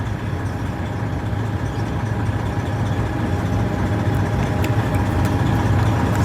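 The engine of an Eagle bus runs close by with a loud, steady, low drone and only slight swells, despite attempts to rev it with a suspected worn throttle bushing; no voices are heard.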